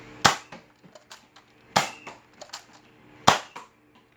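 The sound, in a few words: Mega Hammershot gun firing shots in a video game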